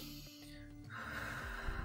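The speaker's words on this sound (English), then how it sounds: "start breathing in and out" Someone breathes in and out close by, a sharp audible inhale followed by a longer breathy exhale, with no talking.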